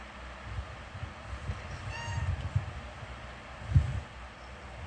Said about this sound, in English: my cat just meowed